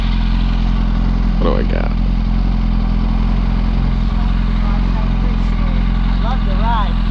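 Motorcycle engine running on a street ride in Miami, a loud, steady low rumble filling the whole span, with a rider talking briefly over it and some clattering.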